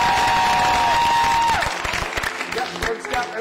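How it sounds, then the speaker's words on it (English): Audience applause for an improv group at a live show, a steady wash of clapping that swells after a sustained tone and continues with scattered cheers. "let's give these guys another big round of applause"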